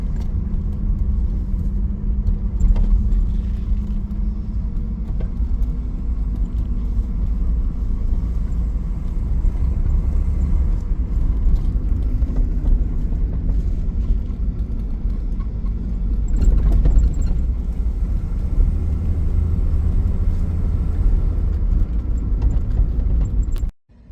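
A 1981 AMC Spirit DL with a carbureted engine idles steadily with a deep, continuous low rumble, swelling slightly around the middle as the throttle is blipped, then cutting off abruptly at the end.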